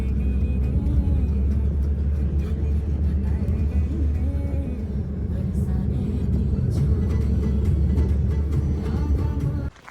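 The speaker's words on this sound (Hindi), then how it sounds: "गाड़ी के सफ़र का मज़ा लीजिए" A car on a road trip into the mountains toward Chopta keeps up a steady, loud engine drone and road rumble throughout, with faint tonal sounds inside the cabin, before cutting off at the very end.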